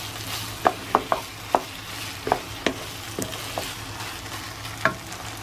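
Sticky glutinous rice (malagkit) is stirred in a pan: a spoon scrapes and taps the pan in about eight irregular strokes, over a low, steady cooking hiss. The sound is close, and nobody speaks.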